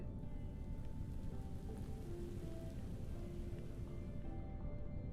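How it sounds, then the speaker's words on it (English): Steady rain falls in a modded Minecraft world, the Enigmatica 2 Expert modpack, as a constant even hiss with soft patter throughout, faint rumbling underneath and no voices. "Heading off into a rainy night."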